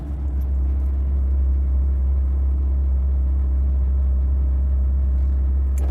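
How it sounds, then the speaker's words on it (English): Steady car traffic on a German street: a continuous low engine rumble and road roar, loud and unbroken, with no voices. "This is how the streets looks in Germany, by the way."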